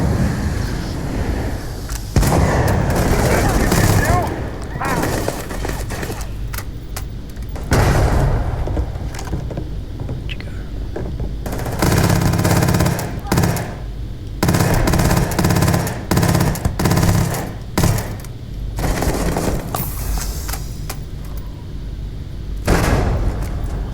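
Grendel rifle in the video game Starfield firing in repeated long automatic bursts separated by short pauses, loud and close, with heavy booming shots and no talking.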